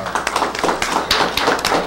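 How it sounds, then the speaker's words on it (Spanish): Audience applause for the chunchos dance group from Yurajarajay, Luricocha, at a cultural school event in Huanta, Peru: brisk, dense clapping with sharp individual claps close by, continuous throughout. "Muy bien, los aplausos para"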